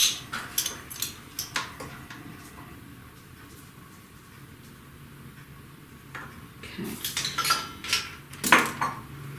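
Flour and salt for maraschino cherry chocolate chip cookies mixed in a bowl, with bursts of rapid ticking utensil clicks and scrapes against the bowl, a quieter stretch in the middle, close and without talk.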